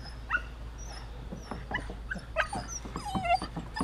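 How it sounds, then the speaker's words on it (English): Several small guard dogs, miniature Labradors, yip, bark and whimper in quick, overlapping bursts, close by and fairly loud, with no talking over them. "They're little guard dogs."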